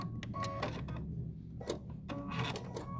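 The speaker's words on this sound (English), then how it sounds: "And we're just going to top stitch all the way around our placemat." A sewing machine top stitches around the edge of a quilted placemat, its rapid mechanical whir running in bursts with short pauses between passes, close and steady throughout.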